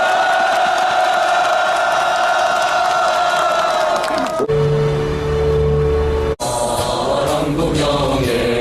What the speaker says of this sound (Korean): 여러분의 힘찬 박수 함성으로 시작하겠습니다